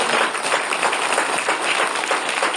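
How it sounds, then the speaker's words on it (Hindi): Dense, steady applause from an audience at an awareness campaign event, loud and close, continuous crowd clapping with no voices over it. "एक बार जोरदार तालियां संदीप जी के लिए"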